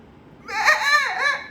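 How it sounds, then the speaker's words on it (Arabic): A single wavering bleat, high and nasal, rising and falling in about a second, close and clear against a quiet background. "دي معزة، دي مش خروف"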